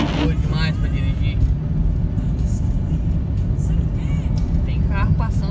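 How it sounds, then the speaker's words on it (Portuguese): Cars drive back and forth on a snowy Massachusetts road during a snowstorm, a continuous loud low rumble of traffic close by, with a voice speaking over it. "Tem carro passando pra lá e pra cá."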